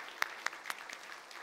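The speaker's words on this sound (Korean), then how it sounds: "자, 일단 큰 축복의 박수로 해주셨으면 좋겠습니다." A church congregation gives a brief round of applause, heard as a few quiet, spaced claps at some distance.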